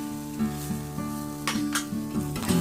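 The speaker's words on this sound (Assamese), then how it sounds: "সুদা কেৰাহীত পনীৰখিনি আৰু যিখিনি কাটি লৈছিলোঁ কেপচিকাম আৰু পিঁয়াজ সেইখিনি মই অকণমান সময় ভাজি ল'ম" Paneer, capsicum and onion sizzle as they fry in a kadai for homemade pizza topping, with a continuous crackling sizzle, a few stirring scrapes and a steady tonal hum underneath.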